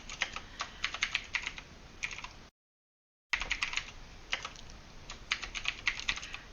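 Quick bursts of computer keyboard typing, light clicky keystrokes in uneven runs, broken by a short silent gap; quiet and close with no talk.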